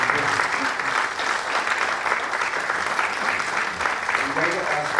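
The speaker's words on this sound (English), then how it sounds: "Round of applause, please, for our guest." An audience applauds a guest named Phil at a logbook presentation, dense sustained clapping filling the room evenly from start to finish, fairly loud and close.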